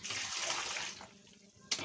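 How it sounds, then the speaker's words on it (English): Water pours steadily onto a yam being readied for cooking, a rushing splash that runs for about a second before easing into quieter trickling, with a brief sharp splash near the end. "Here's a yam. I have to put water inside"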